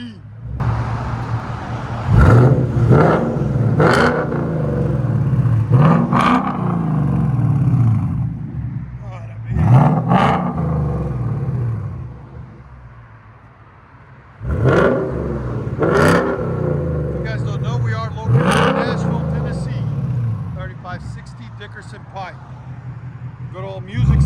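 A 2023 Ford Mustang GT with a 5.0L V8, H-pipe and Dynomax Race Bullets exhaust revs repeatedly, loud sharp blips with a deep rumbling idle between them and a brief quieter lull midway.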